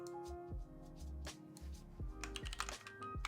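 Keystrokes on a TG4X computer keyboard, a quick run of close, crisp clicks broken by short pauses, with a low hum underneath and no talking.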